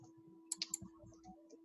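A computer keyboard being typed on in a quiet room: a short run of three or four faint, crisp key clicks, then a few softer taps.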